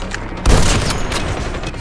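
A loud gunshot blast in the mobile shooter Call of Duty Mobile, a sharp boom followed by a short roar of game noise.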